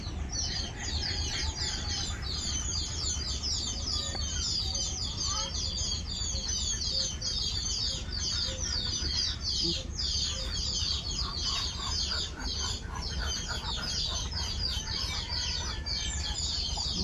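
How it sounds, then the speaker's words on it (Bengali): Large Chinese ducks calling at a village pen, a dense continuous chorus of nasal honks and chatter with people talking faintly beneath. "এটা বড় চীনা হাঁস"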